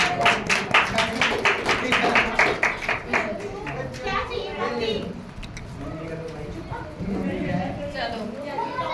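An audience at a church youth meeting claps loudly in a quick, regular rhythm for about three seconds, then talk and murmuring carry on while the clapping fades out.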